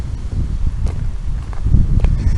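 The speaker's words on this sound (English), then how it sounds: "At this moment it's a bit windy, you can probably hear it" Wind blows outdoors and buffets the microphone with a low, continuous rumble and gusts, and a faint rustle rises and falls underneath.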